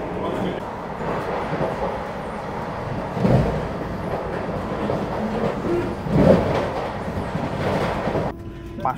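A saffron electric Vande Bharat Express runs between New Jalpaiguri and Assam, heard from inside as a steady rolling rumble with periodic louder clatter bursts from the wheels and car over about nine seconds.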